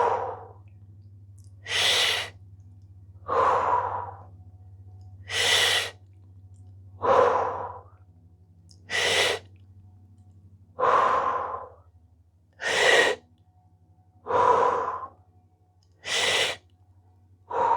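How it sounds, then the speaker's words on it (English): Strong mouth breaths during a fascia exercise for hip pain, about ten loud inhale-exhale bursts in a steady rhythm, close to the microphone over a low constant hum. "now we are breathing through the mouth"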